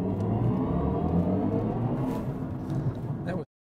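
A BMW i4 electric car launches quickly in an industrial court, giving a smooth rising whir and road rush that builds for a few seconds before cutting off abruptly, with no talking.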